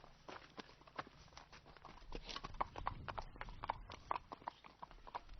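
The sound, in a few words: horse hooves clip-clopping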